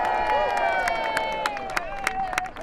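A crowd cheering and clapping at a Portsmouth sailing race after Land Rover Ben Ainsley Racing's win, with scattered claps and whoops under a sustained tonal sound that slowly falls in pitch.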